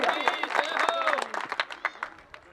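An audience at a public religious gathering in India breaks into loud, dense applause, with sharp claps close by over a crowd backdrop that tapers off near the end.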